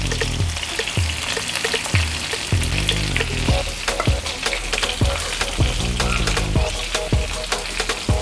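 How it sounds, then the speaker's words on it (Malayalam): Chicken pieces frying in a pan with a continuous crackling sizzle, punctuated by frequent sharp taps and clinks as a utensil strikes the pan, close and fairly loud with no voices. "ചിക്കനൊക്കെ ഫ്രൈ ആയി, നമുക്കിനി അത്"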